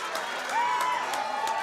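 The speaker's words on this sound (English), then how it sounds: "And you can hear the conflicted crowd again." A crowd at an indoor wrestling show gives off a steady, dense murmur with mixed reactions, and a voice rises briefly above the noise.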